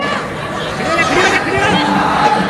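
A football crowd of Haryana boys cheers at an under-21 girls' football final, a steady dense roar of chatter and shouting throughout.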